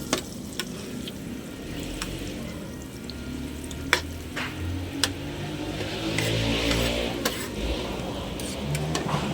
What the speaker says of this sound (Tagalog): Atin po ang dairy cream muna ang ating lulutuin.